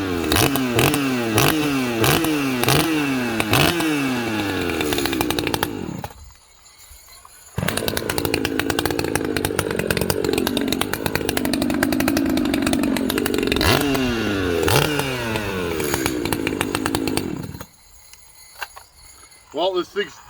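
A ported Echo CS590 chainsaw pull-starts and runs loud and close, revving up and down in sharp throttle bursts, dropping to idle for a moment, then revving hard again before cutting off.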